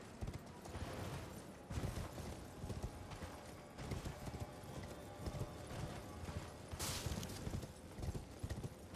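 Horse hooves clip-clop in a steady, continuous rhythm while riding through Elden Ring, layered over in-game ambience and occasional sharper combat-like bursts.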